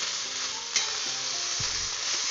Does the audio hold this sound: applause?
no